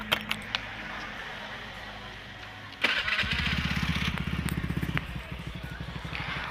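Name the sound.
Honda Beat motorcycle engine starting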